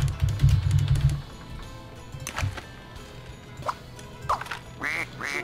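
A cartoon duck quacks repeatedly in the video game Scribblenauts Unlimited, a run of short nasal quacks over game sounds and a low background hum.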